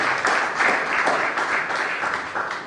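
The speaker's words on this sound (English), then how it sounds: "And we appreciate it with a very big round of applause." A crowd at a youth mentoring masterclass applauds a commissioner with loud, dense, continuous clapping that stays steady throughout, with no voices over it.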